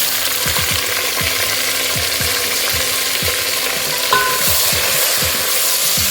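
Tomato frying in a pan for Kenyan-style kienyeji chicken, with a loud continuous sizzle and repeated scraping stir strokes in a quick, uneven rhythm, and no voices.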